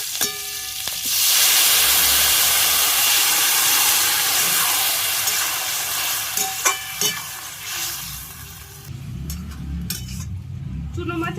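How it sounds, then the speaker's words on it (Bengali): Radhuni seeds and green chili tempering in hot mustard oil, a loud steady sizzle with hissing steam and occasional clinks of a stirring utensil, fading somewhat toward the end. "এবার ফোড়ন দিয়ে দিচ্ছি।"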